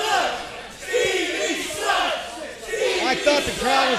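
Wrestling crowd chanting in a rhythmic repeated call at an indie wrestling show, the chant rising and falling in regular waves with a commentator talking over it.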